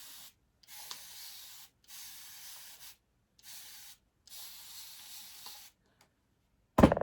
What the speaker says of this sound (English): And I'm going to spray it because,